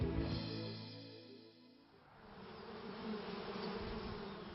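Bees buzz steadily as they visit flowers, a continuous close insect drone that shifts in pitch and fills the whole stretch with no talking.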